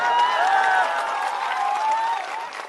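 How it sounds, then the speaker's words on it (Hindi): Crowd at an outdoor political rally in Bihar clapping in a broad, sustained wash that fades slightly toward the end, with a faint voice and tonal sound running beneath. "ताली बजा दिए, ताली बजा ली।"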